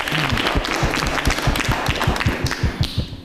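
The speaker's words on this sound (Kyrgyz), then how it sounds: "Кол чаап турабыз." An audience claps in a brisk, fairly regular series of sharp claps, close and moderately loud, thinning out toward the end.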